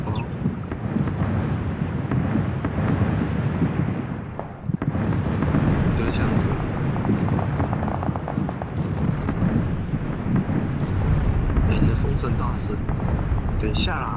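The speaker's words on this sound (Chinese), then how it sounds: "正在开战呢， 一堆枪声哦。" Gunfire and explosions from a PUBG (PlayerUnknown's Battlegrounds) match, with dense, continuous rumbling blasts and crackling shots throughout, fairly loud, mixed under voices of players talking.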